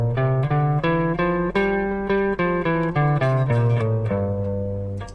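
Guitar runs up and down a Dorian scale, single plucked notes following one after another in a quick, even line, close and clear with no talking.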